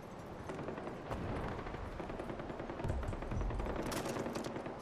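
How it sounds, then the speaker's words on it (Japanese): Automatic and single gunfire in the video game Far Cry 4, dense rattling bursts with booming impacts, continuous and fairly loud throughout with no talking. "銃声が鳴り始めるし"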